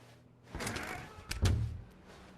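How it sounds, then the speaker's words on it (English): Two dull door sounds in the video game The Stanley Parable, a soft movement followed by a heavier thud, set in a quiet office space with nothing else around them. "When Stanley came to a set of 2 open doors, he entered the door on his left."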